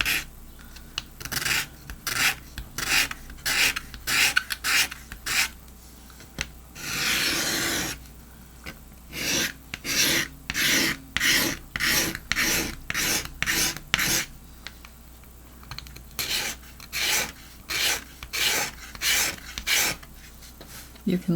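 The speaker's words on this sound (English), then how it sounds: "So I just take this and just scrape it. It almost sands it down." A hand tool scraping rough glue residue off a surface makes repeated short rasping strokes in a steady rhythm, close and fairly loud, with one longer continuous scrape partway through and brief pauses between bursts.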